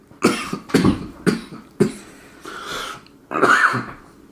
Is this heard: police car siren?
no